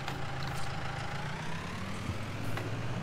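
Ford 3600 tractor engine in Farming Simulator 19, a steady low idling rumble with a faint rising whine, continuous and moderately quiet throughout.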